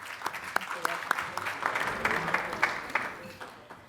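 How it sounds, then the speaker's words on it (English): An audience at an Alaska innovation summit pitch contest applauds with scattered, distinct claps that build into fuller applause, moderately distant and fairly quiet in a large hall. "Please give a big round of applause for Catherine."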